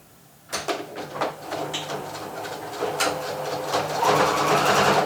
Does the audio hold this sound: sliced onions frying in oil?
no